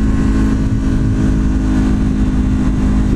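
A Honda CBR500R motorcycle engine drones loud and steady while the rider holds the throttle on the road, a continuous close rumble with no break.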